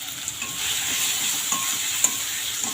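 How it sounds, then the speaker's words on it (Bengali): Fried spiny gourd pieces are stirred into a cooked spice paste that has released its oil. The paste sizzles steadily and up close, with soft scrapes and clicks from the stirring and no talk. "মশলা থেকে তেলও ছেড়ে গেছে। এবার ভাজা কাঁকরোলগুলো দিয়ে দিলাম।"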